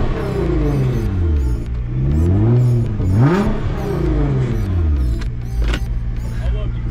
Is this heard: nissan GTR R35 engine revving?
yes